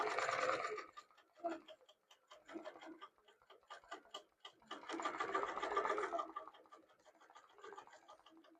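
A sewing machine runs a slow basting stitch along the top of a piece of fabric, quiet rapid ticking in short bursts with pauses between, close by.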